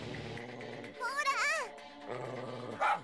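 In Yakuza 3, an attack dog gives a strained, warbling growl and a whine between stretches of spoken dialogue, then a short sharp cry near the end.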